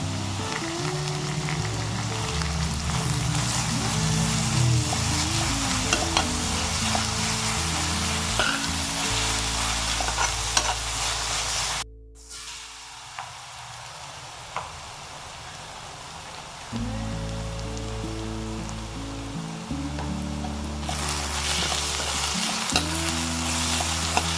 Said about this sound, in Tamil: நல்லா கோல்டன் ப்ரௌன் ஆகிற வரைக்கும் நல்லா வதக்கிக்கலாம்.